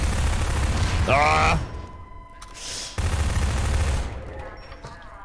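Grenade blasts in the co-op shooter Half-Life 2 Synergy, loud broadband bursts around the first and third seconds amid gunfire-like clatter, with a player shouting over them.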